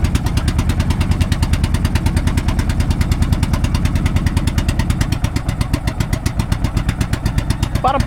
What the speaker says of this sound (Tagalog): Maluwag ang makina, nakalog.